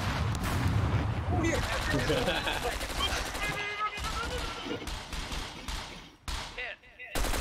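Heavy gunfire and grenade blasts in the video game Scum, dense bursts of shots and booms pounding almost nonstop, loud and close, with a brief exclamation from a player over the din.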